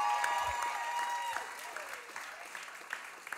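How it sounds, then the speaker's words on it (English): An audience at a live concert by a band in a small venue applauds, with scattered clapping and a few cheers that fade gradually from a fuller burst to thinning claps. "A round of applause going for the Chapel of Chapel crew here"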